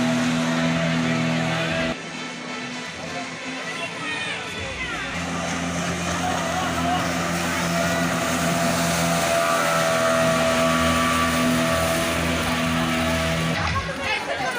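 A speedboat ride at a leisure spot, the engine droning loud and steady with a rising whine, water and wind rush over it, and voices faintly underneath.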